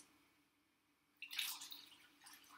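Spiced liquid seasoned with seeds is poured back into a jar, a quiet room first and then a sudden splashing, trickling pour that tapers off with a few last drips.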